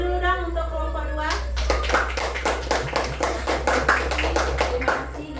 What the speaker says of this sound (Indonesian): Oke, tepuk tangan dulu dong untuk kelompok 2.